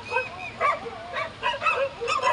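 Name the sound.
dogs barking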